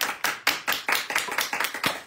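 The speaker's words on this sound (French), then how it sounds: "On l'applaudit!" An audience at a VIP day event applauds a prize winner, with a quick run of about ten distinct, fairly close claps in a brisk, uneven rhythm.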